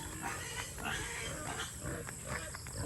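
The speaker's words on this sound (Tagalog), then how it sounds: "Tapos yung ibang mga baboy natin, nandoon yung mga biik nating iba." Pigs and piglets on a free-range farm, heard as a steady jumble of grunts and oinks at moderate level, fairly close and continuous, with no talk.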